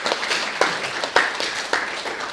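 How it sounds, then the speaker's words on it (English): A room of students at a game development club meeting applauds, a moderately loud scatter of clapping with a few sharper claps standing out near the front. "Round of applause for everyone."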